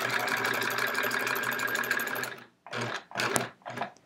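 A sewing machine quilts little short stitches along a quilt border, running in one long steady burst and then a few short stop-start runs, close and clear.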